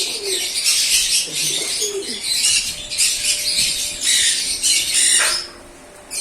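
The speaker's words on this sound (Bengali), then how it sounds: "এখান থেকে সেগুলো লক্কা পায়রাগুলো খেয়ে নেয়" Lakka fantail pigeons feeding at a bird setup call close by in a busy mix of coos and squawks, with bursts of wing and scratching noise that continue almost throughout.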